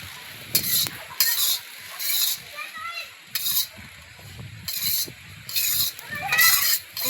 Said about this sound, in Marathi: अशा प्रकारे भाजून घेतलं की याला फक्त गरम कढईत असं कडक होण्यासाठी ठेवलं ना त्याचं तेल उतरतं